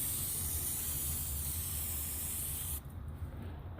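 A steady aerosol spray of brake cleaner hisses close by for nearly three seconds during a brake job on a 2012 Infiniti G37x coupe, then cuts off, leaving quiet background noise.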